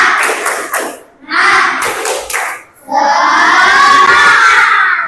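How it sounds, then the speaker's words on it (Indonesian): A classroom of schoolchildren performs a rhythmic spirit clap, loud bursts of clapping and chanting in short patterned groups, ending in a sustained round of claps mixed with shouting voices. "kita tepuk semangat dulu"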